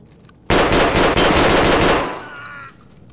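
Rapid automatic gunfire in a video game shootout in a factory, one loud sustained burst of shots lasting about a second and a half, then tailing off with a ringing echo.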